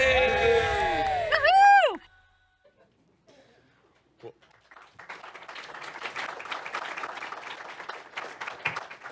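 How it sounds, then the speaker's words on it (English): Applause and scattered clapping from AARP staff fill the room at a community challenge event, starting faint and building into steady, moderately loud clapping after an earlier stretch of cheering voices and near silence. "you're hearing the applause of staff in AARP applauding that incredible video that we just saw"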